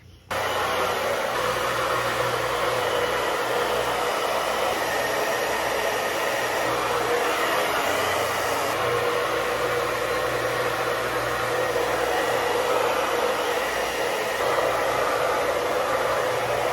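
A hair dryer runs continuously at close range, a loud steady whooshing hum drying curly hair after a cut, with brief shifts in tone as the airflow moves.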